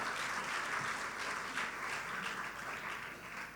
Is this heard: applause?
yes